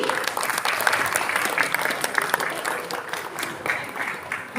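An audience applauds for the Gambang Kromong Sanggar Nagari ensemble at a Betawi pantun festival, with steady dense clapping that fills the clip and fades slightly toward the end.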